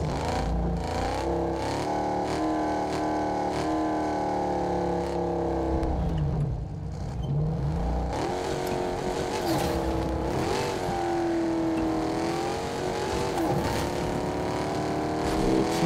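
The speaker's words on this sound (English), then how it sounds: "Muscle car." Muscle car engine in the video game Fortnite drones steadily and loudly throughout, its pitch rising and falling as the car revs and accelerates, with a brief dip midway before the revving climbs again.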